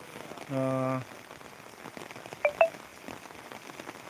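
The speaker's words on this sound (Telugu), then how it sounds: "ఇప్పుడు నార్మల్గా అయితే మంచి వర్షం కురుస్తుంది" Steady rain patters softly in the background, interrupted by a short electronic beep tone and a couple of brief sharp clicks.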